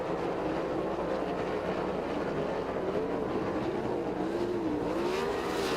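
410 sprint cars race in a heat at Lincoln Speedway, a continuous loud engine roar whose pitch swells and dips as the cars circle the track, with no pause.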